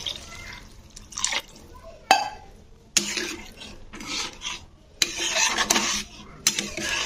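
Water is poured into fish curry masala in a pan for Bengali chital macher kalia, coming in repeated bursts of splashing and hissing against the hot spices, close and fairly loud, with pauses between pours.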